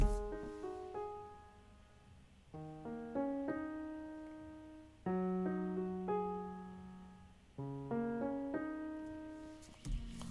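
A short three-note keyboard melody played in repeated phrases, each note ringing and decaying, clear and alone with no talking.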